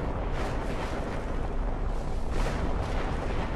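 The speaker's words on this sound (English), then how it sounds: "Another howitzer? He must be swimming in the munitions." Howitzer artillery fire in the strategy game Company of Heroes: a dense, rumbling barrage of booming blasts that rolls on steadily with no pause.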